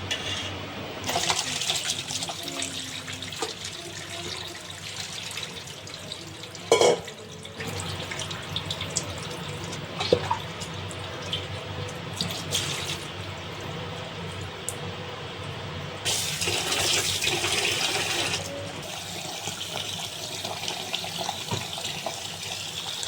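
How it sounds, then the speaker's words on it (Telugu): Cold tap water runs and splashes over cooked semiya vermicelli in a kitchen as it is mixed and strained through a perforated colander for semiya kesari, a steady rushing flow with clinks and a louder gush near the end. "చల్ల నీటిని పోసుకొని ఇలా బాగా కలుపుకొని ఆ చిల్లుల గంపలో వడబోసుకోవాలి"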